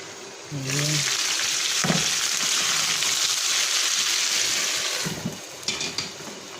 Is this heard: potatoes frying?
yes